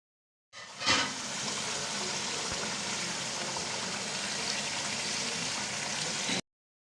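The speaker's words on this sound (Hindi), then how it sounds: "मिर्चों का वो पानी था वो डालूँगी।" Chili-soaked water poured into masala frying in a pan for Afghani malai boti tikka, setting off a loud, steady hiss and sizzle that jumps at the first splash and holds evenly for several seconds before stopping abruptly.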